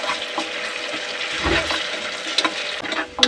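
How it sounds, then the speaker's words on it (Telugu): Ginger fries in hot oil for a mutton curry, a steady close sizzle with soft stirring scrapes and a few small clinks, and no voices. "అందులో అల్లం తీసుకొని బాగా వేగనియాలి"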